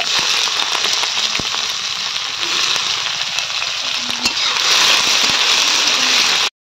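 Onion frying in hot oil after panch phoron spices have crackled, cooked in a village kitchen; a loud, dense, steady sizzle with scattered pops and clicks, continuing alone without talk until it cuts off abruptly.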